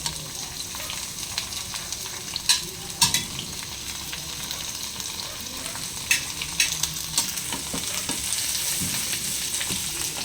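Sliced onion fries in a pan for a prawn roast, making a constant bright sizzle broken by a few clinks and scrapes of stirring, close up and with no speech.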